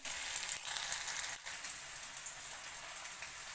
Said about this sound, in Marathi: तेल पण चांगलं तापलंय आता जिरं टाकून घेते जिरं आणि मोहरी थोडीशी टाकून घेते